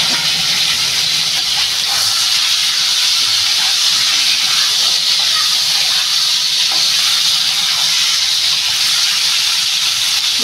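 Washed, cut potatoes go into hot oil in a pan for a Bengali potato and catla fish curry, giving a steady, loud, hissy sizzle that holds evenly throughout with no talking.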